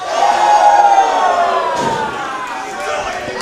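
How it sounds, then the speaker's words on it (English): A wrestling crowd roars at Santino Bros. Wrestling Fight Night 8 in Azusa, California, a dense, sustained wall of cheering and shouting voices that stays loud throughout and dips slightly toward the end. "Oh, this crowd is fired up for Alec Tomas and Darwin Finch."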